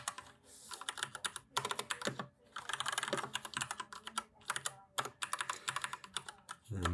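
Rapid clicky keystrokes on a computer keyboard as C code is typed, in uneven bursts with short pauses, close and fairly quiet with no voice.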